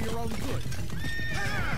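A horse neighs and whinnies with clip-clopping hooves in the Blue Estate shooter game on PS4, a short loud burst thick with game noise and overlapping talk.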